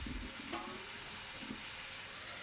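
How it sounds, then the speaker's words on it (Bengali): Plain white potato curry being turned over in a pan without salt or turmeric, a faint low sizzle with a couple of soft spoon scrapes, quiet and without talk. "ওপর নিচ ভালো করে নাড়াচাড়া করে নিচ্ছি"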